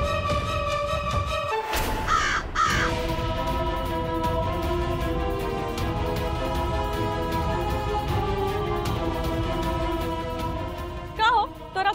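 Harsh crow caws in a Bhojpuri TV drama: a loud burst of raspy calls early on and a shorter pair near the end, over continuous tonal background music.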